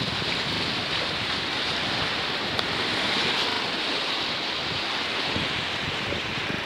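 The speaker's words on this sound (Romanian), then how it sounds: "Am început să bată și valurile." Sea waves break against the south pier at Agigea on the Black Sea coast during a fishing outing, heard as a continuous broadband wash mixed with heavy wind buffeting on the microphone, with no talking.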